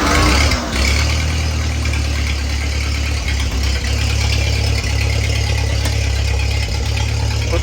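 A 1949 Ford 8N tractor engine runs with its PTO engaged, a loud, close, steady low rumble and mechanical clatter that holds level throughout with no talk.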